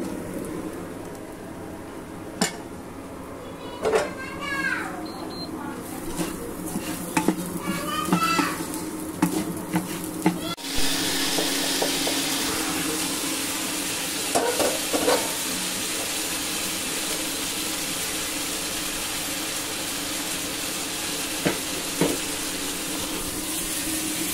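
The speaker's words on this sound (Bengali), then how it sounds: "এবার ভালো করে চালটা ভেজে নেব।" Rice fries in a pot on an induction cooker for chicken biryani, giving a steady crackling sizzle throughout, broken by occasional spoon scrapes and clinks against the pot. The sizzle grows louder partway through.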